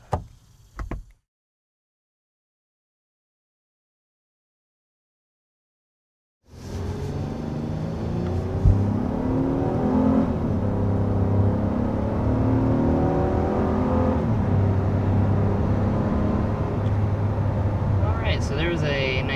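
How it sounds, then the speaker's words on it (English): 2022 Honda Pilot SUV accelerating hard from 0 to 60 up a steep hill, its engine rising in a steady whirring drone with climbing pitch, heard from inside the cabin after a short burst of noise and a few seconds of silence. "there's a nice 0 to 60 acceleration in this 2022 Honda Pilot, going up a pretty steep hill"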